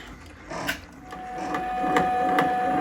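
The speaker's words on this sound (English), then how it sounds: "So I'm going to slow the machine down so I can see if I'm in the right spot." An embroidery machine stitches black thread onto a sweatshirt, running slowly with steady mechanical whirring and a series of regular sharp needle ticks close by, building slightly louder toward the end.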